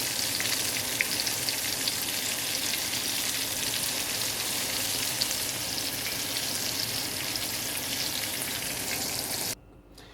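Shrimp frying in hot oil for shrimp dynamite, giving a loud, steady, broadband sizzle with fine crackles that runs without a break for about nine seconds and then cuts off suddenly.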